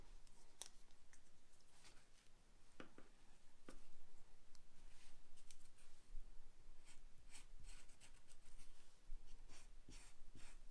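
Scissors cut through a corrugated cardboard template for a paper mache Jack Skellington bow tie, giving a steady run of crisp snips and rustles close by, with no talking.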